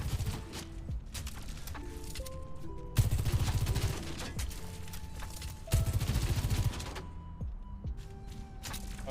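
Video game gunfire: repeated bursts of rapid shots with heavy attacks near 3 and 6 seconds, loud and close, alone with no talk.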